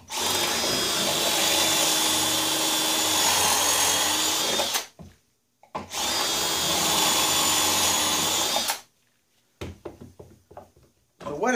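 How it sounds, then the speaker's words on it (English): A power drill bores angled pocket holes into a wooden gate board, whining loudly in two long sustained runs separated by a short pause, followed by a few quieter knocks and clatters. "So what it does is it drills the holes that go on an angle"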